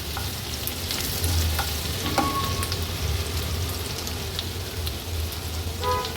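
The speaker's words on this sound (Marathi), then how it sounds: "तेल गरम झालं की आपण 2 चमचे आलं, लसूण आणि मिरचीचा क्रश घालूया। थोडासा तेलावर असा परतून घ्यायचा आहे।" Ginger, garlic and chili crush sautéing in hot oil for an Agri-Koli style vegetable dish, a steady close sizzle and crackle with occasional stirring clinks throughout.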